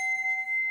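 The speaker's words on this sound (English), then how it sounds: "Here's a chime, just a piece of chilled aluminum." A chime made from a piece of chilled aluminum rings with a pure, sustained bell-like tone, steady and moderately loud and close, with no voices.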